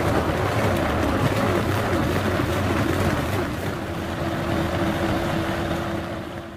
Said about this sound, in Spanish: Una vez que ya esté la cebolla citronada, vamos a ponerla a nuestra licuadora.